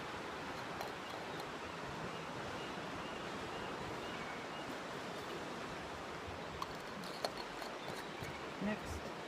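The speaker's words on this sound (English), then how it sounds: "It's the Pacific Ocean." Pacific Ocean surf at Cape Flattery, a steady broadband roar of waves without distinct breaks, fairly distant and even, with a few faint clicks near the end.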